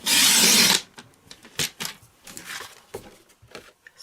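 Paper for a diagonal z-fold Easter card being trimmed, opening with a loud short rasp of about a second, then a series of faint close clicks and scrapes of cutting and handling.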